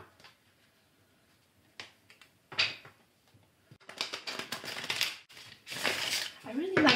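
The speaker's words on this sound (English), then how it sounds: "Another shuffle." Tarot cards are shuffled in a few quick riffling bursts, sparse at first and then denser and louder near the end, close to the listener, with a voice speaking briefly at the close.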